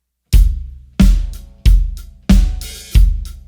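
Five punchy kit hits in a steady rhythm, with a deep kick and snare under sustained cymbal shimmer, played loud and near as a short beginner drum groove.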